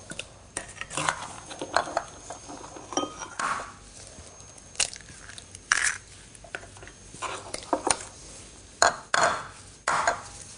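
Eggs being cracked and separated for brownie hearts, with sharp clicks and clinks of shell against a bowl rim coming in irregular bursts, close and fairly loud.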